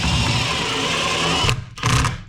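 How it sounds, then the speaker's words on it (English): A power drill drives regular screws to fasten a heavy item down in a storage trailer, whirring steadily for about a second and a half, then a short pause and a second brief burst. "I'm just going to screw this thing down with the regular screws"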